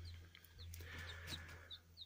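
Young chicks being moved, peeping faintly in a few thin, repeated high calls over a low steady hum.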